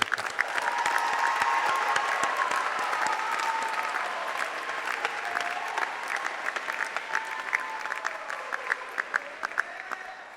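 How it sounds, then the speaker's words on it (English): Graduates and guests applauding at a university commencement ceremony, a broad, sustained wave of many hands clapping that gradually thins into scattered, separate claps near the end. "We're supposed to clap now."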